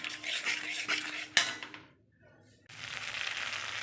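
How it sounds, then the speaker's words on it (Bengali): Spices being stirred in a pan on a gas stove with chili powder, a few metallic scrapes and clinks of a utensil against the pan, then a sharp clang, a short quiet gap and renewed faint sizzling. "দিয়ে মশলাটা একটু কষিয়ে নেব।"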